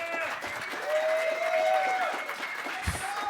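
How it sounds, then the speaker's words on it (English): Audience applause at the ShmooCon 2011 security conference as a talk begins: steady, dense clapping from a crowd, fairly loud and continuous, with faint voices mixed in. "Round of applause."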